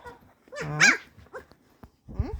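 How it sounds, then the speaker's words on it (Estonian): Young puppy from a sixteen-day-old litter giving a short, squeaky growling yelp, close and brief, followed by a few small grunts and snuffles. "Oi, mis ta seal uriseb? Kes see seal uriseb jälle?"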